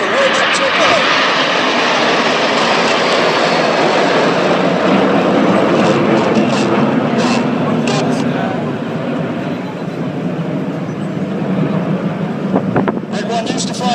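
Red Arrows jets in short diamond formation roar overhead at a flying display in Jersey, a loud sustained engine rush that dips slightly then swells again, with wind buffeting and a commentator talking over it.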